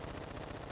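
Rapid gunfire from the video game Call of Duty DMZ, a loud, dense burst of continuous shots filling the brief moment without any talk.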